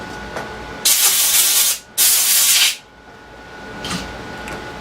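Compressed air blasts debris off a hydraulic pump during a rebuild: two loud, close hissing bursts in quick succession, then a faint short puff.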